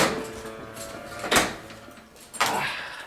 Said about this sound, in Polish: Ale najpierw trzeba zamknąć drzwi.